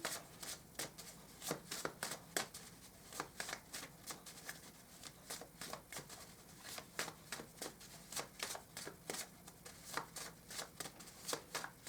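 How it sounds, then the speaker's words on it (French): A deck of tarot cards is shuffled by hand, producing quiet, close, repeated riffling flicks and slaps in an irregular rhythm throughout, with no talking. "On va tirer maintenant 3 cartes manuscrites pour vous"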